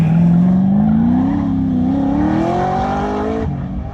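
Brian's autocross car is pushed hard on an SCCA Sacramento course, its engine now making more power. A loud, close engine note climbs steadily in pitch as it accelerates, then eases off near the end.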